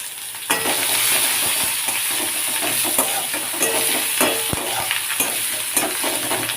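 Onion and garlic paste frying in very hot oil in a wok, a loud continuous hiss and crackle close up, with scattered clicks of a spatula stirring through it and no voices.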